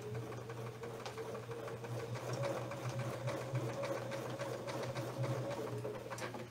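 A quilting machine stitching along a coil template path gives a steady, rapid mechanical hum with a fine even pulse. It is close and moderately quiet and runs without pause.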